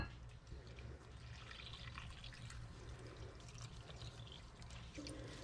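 A faint, steady trickle of water pours into flour for tortilla dough for several seconds, close by and quiet, with a low background hum and no talking.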